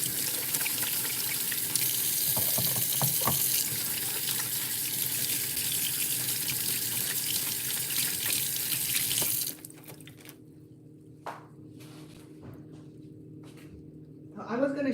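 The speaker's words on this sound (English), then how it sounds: "Let me wash my hand." A kitchen sink tap runs steadily for handwashing, a loud continuous gush for about nine seconds before shutting off, followed by quieter clatter and handling noises.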